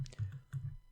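Computer keyboard keys are pressed during Blender modelling, giving a few quick, close clicks in two short bursts.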